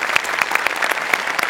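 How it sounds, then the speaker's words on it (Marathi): A studio audience at a Marathi comedy show claps in a brief, brisk burst of applause, dense and even from start to finish. "जोरदार टाळ्या."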